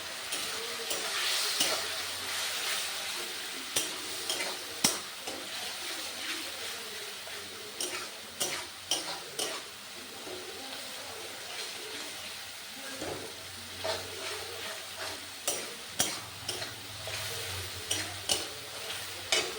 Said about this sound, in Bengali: এবার মশলাটা ভালো করে কষে নিতে হবে।